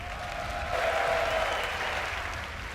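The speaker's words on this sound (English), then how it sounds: "you can hear the crowd roaring after that type of match" Loud crowd roar with sustained applause at DreamHack Open Tours 2015 StarCraft 2 match, a dense wash of cheering and clapping that swells slightly midway and holds steady throughout.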